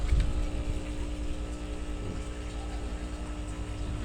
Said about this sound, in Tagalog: Yung tawag doon, air pump.